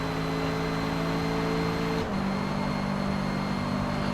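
Steady engine drone from a Mazda MX-5 Miata race car in Forza Motorsport, holding a constant pitch before shifting down to a lower tone midway, loud and continuous with no talk.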